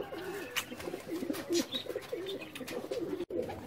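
Sialkoti breeder pigeons cooing steadily up close, soft repeated low coos rolling one after another through the whole stretch, with a brief drop-out near the end.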